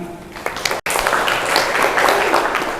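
A workshop audience of teachers at an Islamic boarding school breaks into applause, a dense, steady wash of many hands clapping in a room that lasts a few seconds after a brief cut.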